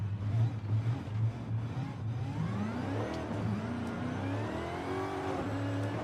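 A heavily supercharged car in Forza Horizon 5 revs hard, its engine note rising in long climbing sweeps with a steady whine and throaty rumble that fills the whole stretch.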